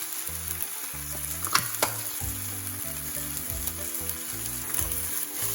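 Rice for Japanese omurice fries in a pan with tonkatsu sauce, giving a steady close sizzle with a few sharper pops and clicks of stirring, with no one talking.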